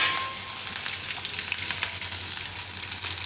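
Whole spices, cumin, cinnamon, cloves, star anise, dried chillies, bay leaves and curry leaves frying in hot oil in a Gujarati home kitchen, a steady close crackling sizzle that continues unbroken throughout.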